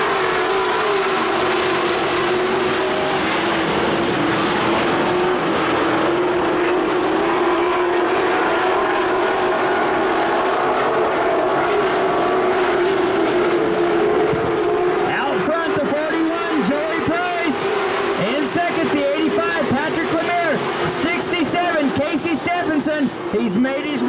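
Race cars roar past side by side on a speedway, a loud sustained engine drone with a rising and falling pitch as they pass, under an announcer's continuous commentary.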